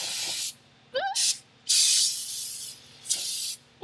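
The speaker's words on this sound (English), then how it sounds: "Just spray it." Several short bursts of aerosol spray hiss, close and loud, separated by brief pauses, with a faint voice in between, during rear brake work on a Volvo 245.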